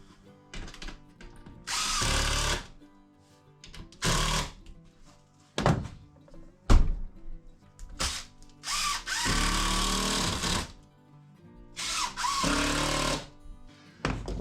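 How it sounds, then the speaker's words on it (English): A power drill drives screws into sheathing on a workshop wall in repeated bursts of high whirring, each a second or two long, separated by pauses with clunks and handling knocks, loud and close with no speech. "I'm going to put some more screws in that"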